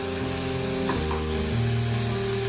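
Onion pieces fried in hot oil in a pan for an eggplant bharta, giving a steady close sizzle that runs without a break and shifts slightly as the pieces settle.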